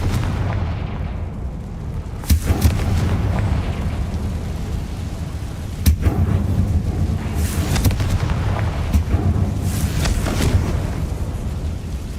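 Explosive spell blasts in the Hogwarts Legacy video game, two sharp booming bursts cutting through a dense, steady roar of game ambience and rumble.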